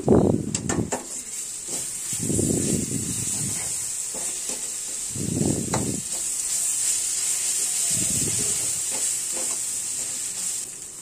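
Ginger garlic paste frying in a pan while being stirred, with a steady sizzling hiss throughout and repeated scraping stir strokes coming in bursts, close and fairly loud.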